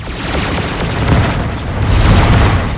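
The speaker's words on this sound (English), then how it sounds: "Somebody's shooting at me from behind." Heavy gunfire impacts and booms from the space shooter game Descent, on a Mars military base level, form a dense, continuous low rumble of blasts that stays loud and steady throughout.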